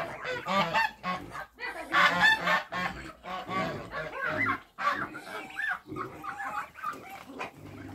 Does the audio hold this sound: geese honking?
yes